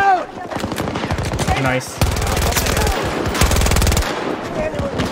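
Kriss Vector submachine gun firing in Battlefield 2042, loud rapid full-auto bursts with a short pause near the middle, shots ringing over game effects while a voice speaks briefly.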